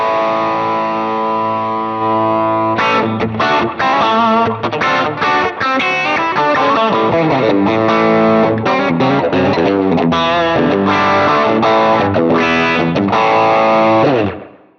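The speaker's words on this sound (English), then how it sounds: "there's just a gain boost, and then I can stack 2 different overdrives or distortion." Electric guitar played through a Quad Cortex with a gain boost and stacked overdrive and distortion, a sustained chord ringing first, then heavy, choppy riffing and bends, loud and close.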